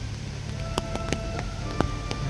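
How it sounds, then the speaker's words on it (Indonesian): Heavy rain falls on a foggy morning at Taman Safari Bogor, an even hiss with scattered sharp drop impacts on nearby surfaces throughout, moderately quiet and with no talking. "cuaca pagi ini sedang diguyur kabut dan diguyur hujan deras"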